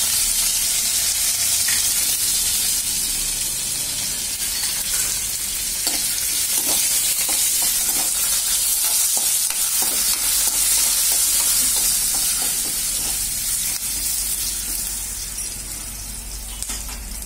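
Curry leaves dropped into hot oil while tempering for semiya upma, with asafoetida already in the pan; loud, dense, steady sizzling and crackling up close, with occasional stirring clicks, fading slightly toward the end.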